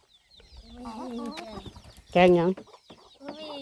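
Chickens cluck around a traditional Lao hill-tribe mountain village, with one loud close squawk standing out amid softer clucks while people talk nearby.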